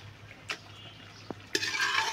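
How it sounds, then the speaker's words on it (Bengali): Cooked dal is added to fried meat in a pot: a few light clinks of a spoon against the metal, then a sudden, close sizzle that keeps frying steadily. "এগুলো মাংসগুলো ভুনিয়ে নেওয়া শেষ। এবার ডাউল দিয়ে দিচ্ছি।"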